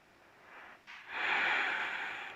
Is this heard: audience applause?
no